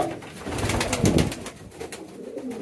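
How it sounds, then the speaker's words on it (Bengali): A pigeon hen gives loud, close, repeated cooing calls, a throaty rolling coo swelling and fading over a few seconds. "আর এই লাল মাদিটা হেভি ডাক দিচ্ছে"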